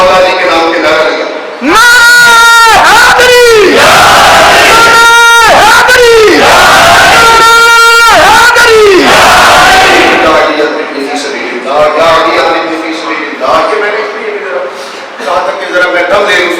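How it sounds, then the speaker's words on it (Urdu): A large religious gathering at a sermon loudly chants a slogan in the name of Mola Ali, with a leader's call answered by a roaring crowd in repeated rhythmic bursts that fade into lingering murmurs. "آپ سب حضرات کو مل کر ذرا پھر ایک بار محبت کے ساتھ مولا علی کے نام کے نعرہ لگا"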